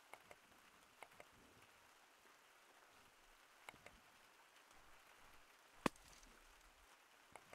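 Faint rain patters in the Gorilla Tag video game, switched on from a mod menu: a quiet, even hiss of drops with a few sparse ticks and one sharper click.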